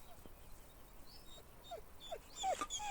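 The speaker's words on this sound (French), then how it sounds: "Ah oui, il y a un petit chien." A small dog gives several faint, high yips and whimpers, scattered and somewhat distant, with quiet background noise throughout.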